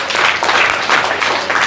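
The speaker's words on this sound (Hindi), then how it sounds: "ताली बजा दो आपको" An audience in a group class in Vishwas Nagar, Delhi, bursts into applause: loud, close, dense clapping that pulses slightly and runs for the full brief moment without speech.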